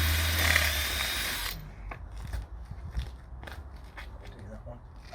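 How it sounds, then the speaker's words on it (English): A power drill with an 8 to 10 mm bit whirs loudly into wood for about a second and a half, then stops, leaving quieter handling clatter and faint room noise. "in order to drill the holes out, obviously I've just used something like an 8 to 10 mil drill"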